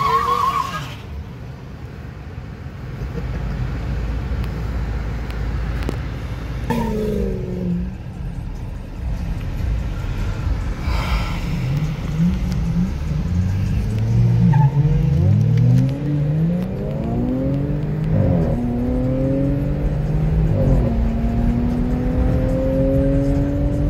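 A 2008 Ford GT500 and a Mercedes C43 AMG race each other, heard from inside a following car: a steady road roar builds into engine notes that climb and rise repeatedly as they accelerate, with a voice briefly heard.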